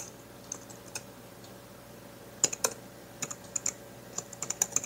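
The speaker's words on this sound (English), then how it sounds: "You can hear him tapping on the keys." Quiet keyboard typing by a robot in a video game: scattered light taps, then quicker bursts of crisp key clicks over a faint steady hum.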